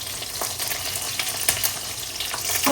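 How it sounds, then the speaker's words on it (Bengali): Eggplant slices salted and frying in hot oil give a steady, close crackling sizzle with small bursts and pops throughout, no voices. "লবণ দিয়ে ভাজতেছি।"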